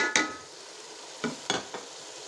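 Beef keema fries in a pan just after green chillies are added, giving a low steady sizzle with a few sharp stirring scrapes spaced out over a couple of seconds.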